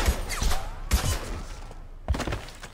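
Gunfire in the video game Mass Effect 2 comes as a few heavy, punchy shots with deep thuds, spaced unevenly across a few seconds and loud against the game's background.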